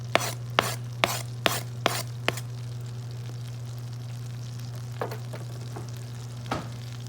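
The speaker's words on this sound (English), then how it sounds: "now we're gonna go in with our minced garlic." Minced garlic sizzles in melted butter in a pan with a soft, steady hiss over a low hum. A run of sharp utensil taps comes at the start and a few more follow later.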